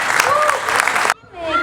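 A crowd claps at a children's festival event, with strong applause cut off abruptly as a voice talks over it.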